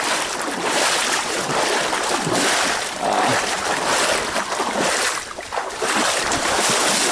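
Someone wading knee-deep through murky water on a coastal hiking trail; continuous loud sloshing and splashing with repeated surges that match walking strides, heavy close to the microphone, with no talk.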